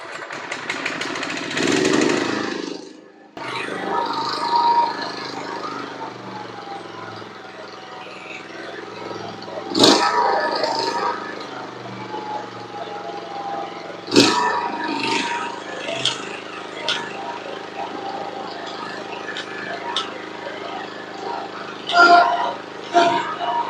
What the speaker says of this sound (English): So let's start the mower and see.